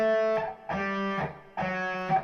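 Slow electric guitar practice with distortion, three sustained notes or chords each separated by a short gap, played clearly with no talking.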